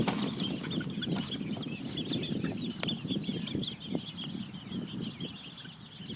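Chickens in a mobile coop on pasture cluck and squawk continuously in a busy chorus, with bursts of wing flapping, moderately close and with no speech.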